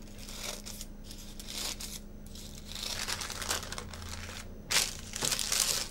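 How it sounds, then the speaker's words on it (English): Baking paper being crumpled, creased and snipped with scissors to line a pie tin for a pecan pie, close-up crinkling bursts with a sharp rustle near the end, no talking. "Measure the paper to fit your tin and cut off any excess paper, making sure you cut slits in the end of the paper"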